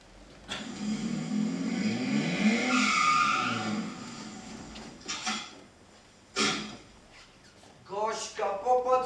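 A car in an animated cartoon drives up with its engine rising, then its tires skid and squeal in several sharp bursts near the end, loud and close.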